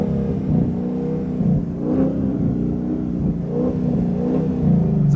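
A Chevrolet Camaro SS V8 revs in a low, throaty drone, held against the rev limiter with slight pulsing surges, loud and close with no talking.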